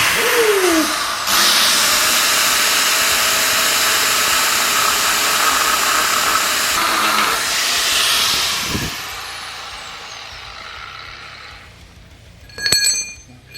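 An angle grinder cuts off a wheel bearing on a Datsun with a loud, steady hiss-like whine lasting most of the time, then easing off and ending with a few sharp clanks.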